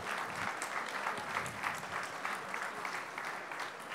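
Steady, dense applause from an audience welcoming the Australian team at the WAC 2019 opening ceremony, continuous and fairly distant throughout with no voices rising above it.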